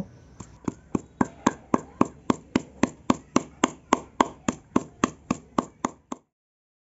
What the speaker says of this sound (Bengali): সবগুলোকে একসঙ্গে ভালোভাবে থেতো করে নেব